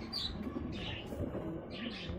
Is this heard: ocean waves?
no